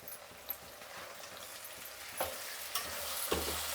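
Tomatoes frying with onions in a pan for a stuffed brinjal curry give a soft, continuous sizzle, with a few faint stirring clinks and scrapes at a low level.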